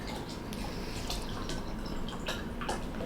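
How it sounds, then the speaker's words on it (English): A drink is poured in a video game, a soft trickle of liquid with a few small splashes and drips, close and quiet, with no talking. "I'm just pouring myself a drink."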